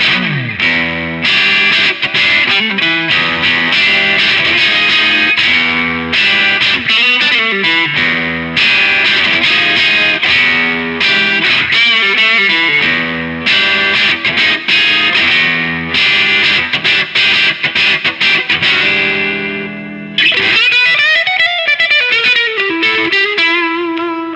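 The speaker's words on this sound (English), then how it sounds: "if we set the gain quite low, and then we have the tone control around about here, we can get some quite cool bluesy rock tones" Electric guitar through a single-coil pickup with the gain set low, giving a bluesy rock tone: loud, continuous chord and lead playing with a slightly driven edge, sustained ringing notes near the end, and no voices.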